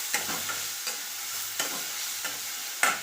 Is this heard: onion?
yes